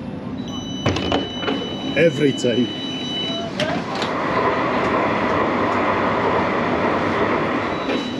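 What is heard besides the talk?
Edinburgh tram door opening and tram moving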